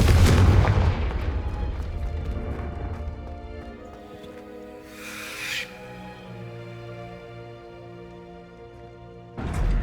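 Hogwarts Legacy spell blasts from Confringo and Incendio: a heavy booming impact at the start, then a rumbling, crackling tail, a hissing burst midway and another sharp hit at the end, all close and loud.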